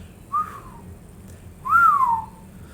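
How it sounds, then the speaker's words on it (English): A person whistles twice in a low, sliding tone, a short soft note followed by a longer, louder one, close and alone against quiet. "Catherine gave a low whistle."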